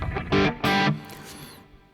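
Bottleneck slide notes ring out on a distorted electric guitar in a blues lesson: two loud, sustained gritty bursts followed by a fading, gliding tail.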